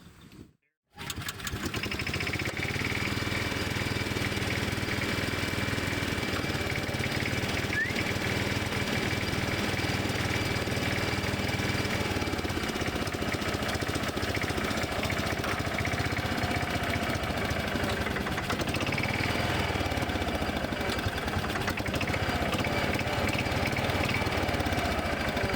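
A Bobcat Pioneer utility vehicle, a rebadged Club Car Carry-All, idles steadily and loud up close, its engine running continuously and evenly after a brief quiet start, with no talk.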